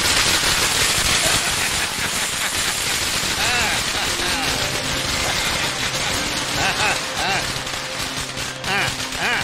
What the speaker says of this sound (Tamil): எனக்கு வந்து இந்த பட்டாசுன்னு ரொம்ப பயம்